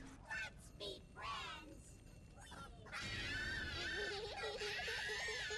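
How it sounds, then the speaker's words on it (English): A monkey bomb thrown into the furnace in Black Ops Zombies screams shrilly and continuously, its wavering cries rising and growing louder in the latter half, with a voice talking over the start. "if you throw a monkey bomb in the furnace, it will actually scream at you until it explodes"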